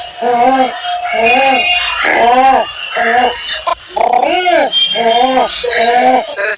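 A human voice imitates a pigeon's crying, cooing call in a series of about eight rhythmic, wavering hoots, close and loud, with brief gaps between each.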